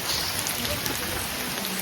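Heavy rain pours down at the Matheran hill station in Maharashtra, a dense, steady patter filling the short stretch with voices faintly mixed underneath.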